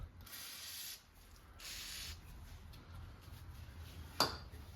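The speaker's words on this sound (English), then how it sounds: "Why don't you put some spray on it?" An aerosol penetrating spray is squirted onto corroded long bolts in the engine bay of a 1972 Aston Martin V8, two short hissing bursts at low level, followed later by a single sharp metallic clink.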